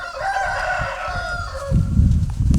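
An Asil rooster crows loudly and close, a long drawn-out cock-a-doodle-doo in a single call, followed by low rustling and handling noise.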